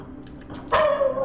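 A dog in the game Lost in Vivo gives a single sudden, loud bark-like yelp after a quiet, faint lead-in, close and startling.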